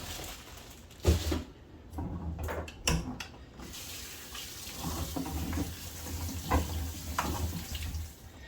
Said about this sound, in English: we're going to wash some little potatoes